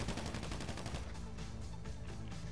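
Rapid automatic fire from a video game gun, a fast burst of repeated shots in the first second, then scattered quieter pops against background game noise.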